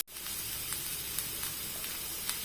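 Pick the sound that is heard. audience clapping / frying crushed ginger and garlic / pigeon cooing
frying crushed ginger and garlic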